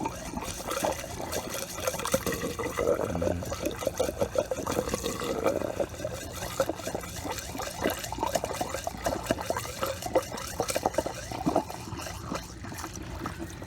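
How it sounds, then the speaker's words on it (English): A gallon of windshield washer fluid poured into the reservoir of a 2019 Ford F250, a continuous gurgling, glugging stream close by, moderately loud, with no talk. "Just pour it right in there."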